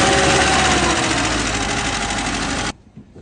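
An engine runs with a loud, steady broadband roar and even vibration, then cuts off abruptly near the end, leaving a quiet background with a faint knock.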